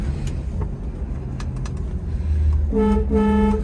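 Horn of a 1966 Ford Mustang sounding in two short, loud blasts near the end, after a low idling engine rumble and a few faint clicks.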